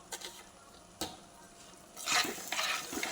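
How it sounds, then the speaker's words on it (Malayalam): Tomatoes frying with salt in an oil-filled pan are stirred, giving a few scraping knocks early on, then the sizzle grows louder and steadier in the last second, close by with no voices. "തക്കാളിയുടെ പച്ചമണം മാറുന്നോടം വരെ ഒന്ന് മൂക്കട്ടെ"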